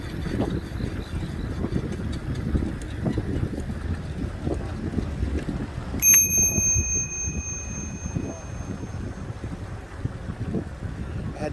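A bicycle bell rings once with a bright, sustained metallic ding that decays over about a second, heard during a nighttime bike ride on city streets amid steady wind and road rumble.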